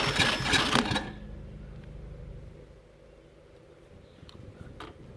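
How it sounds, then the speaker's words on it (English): A lawn mower engine, its carburetor just adjusted, catches with a loud burst for about a second, then settles into a quieter, steady low running rumble. "it starts like a new mower."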